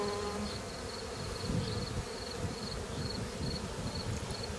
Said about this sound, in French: en battant les ailes, ce qu'elles font, elles diffusent la phéromone d'appel